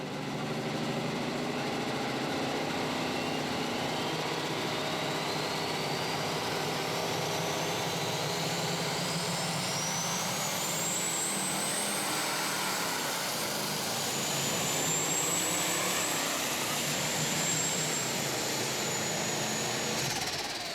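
A V8 unlimited super stock pulling tractor roars continuously at a distance, a broad steady engine drone with a rising whine sweeping upward through the run, no speech.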